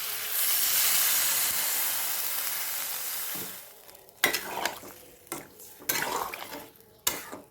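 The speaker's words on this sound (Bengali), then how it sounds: "ভাজা হয়ে গেছে, এবার আমি এর ভেতরে জল দিয়ে দিলাম" Water poured into a hot pan of fried raw banana slices with salt and turmeric, a loud hissing burst of steam that fades after a few seconds, followed by close clattering stirs against the pan.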